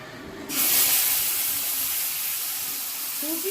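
Ground mustard paste hits hot oil in a pan for a traditional Bengali fish dish with mango paste, bursting into a sudden loud hiss that settles into a steady, close sizzle.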